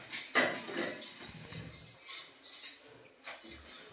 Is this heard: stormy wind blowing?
no